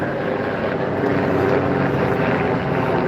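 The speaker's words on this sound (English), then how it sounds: "rescue chopper." A steady, droning rescue helicopter rotor roar fills the air as it passes over city buildings, constant and moderately loud, with no voices.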